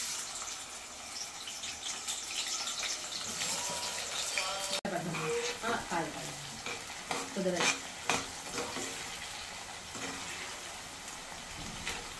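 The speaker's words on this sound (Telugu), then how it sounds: "దీంట్లో ఇప్పుడు మనము ఆనియన్స్ డీప్ ఫ్రై చేసుకుందాం." Onions deep frying in oil in a Healux wok while mutton biryani is being made, a steady close sizzle joined by bursts of stirring and clattering, with no talk.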